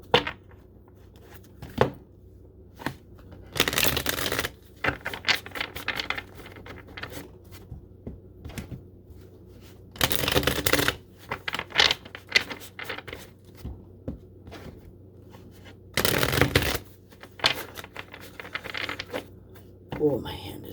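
A tarot deck, the Rider-Waite, is shuffled by hand in several loud riffling bursts separated by quieter handling and soft talk.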